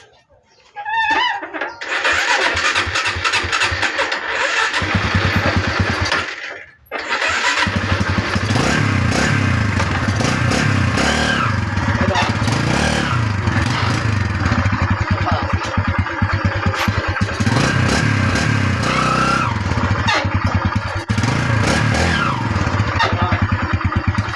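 A Barako motorcycle engine with a fault that makes it stall often cranks and starts, briefly cuts out, then catches again and runs with repeated revving and a rough idle, loud and close.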